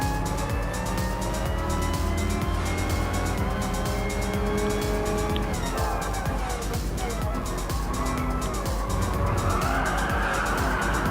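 Race cars in Gran Turismo Sport, including a Corvette, roar continuously with revving engines shifting pitch and tires squealing through corners, a dense unbroken game soundscape.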